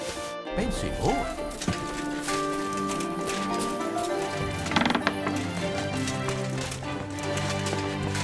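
A horse in Kingdom Come Deliverance II whinnies and its hooves clop at close range, with a steady game music bed and voices talking over the animal.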